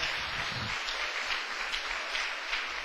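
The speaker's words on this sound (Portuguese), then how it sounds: "Uma salva de palmas para o Senhor." Church congregation applauding together during a sermon, a steady dense patter of clapping held at even loudness throughout with no speech over it.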